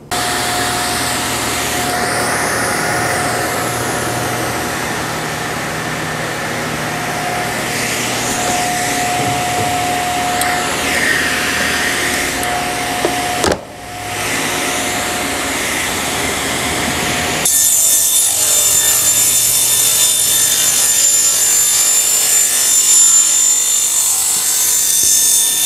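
A panel saw cuts through solid lumber in a workshop, a loud continuous whine with rasping blade contact that briefly dips as the cut finishes, then the motor keeps running at a higher pitch.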